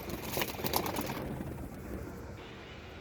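A Ferozpuri pigeon arrives in a short burst of soft bird sounds and close rustling over steady outdoor noise, with no talking.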